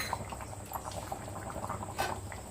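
Fish curry simmering in a pot, soft bubbling pops and gurgles at a steady uneven pace, close but quiet, with no talk.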